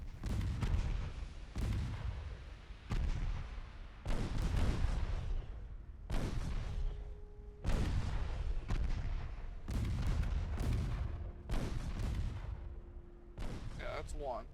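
Naval guns fire in the warship strategy game Ultimate Admiral Dreadnoughts, a run of about ten heavy booming salvos with rumbling tails, spaced every second or two.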